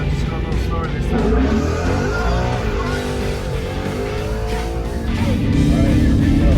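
A nitrous-equipped S550 Ford Mustang GT drives with loud engine noise and tires squealing, heard close and continuously, with people talking over it.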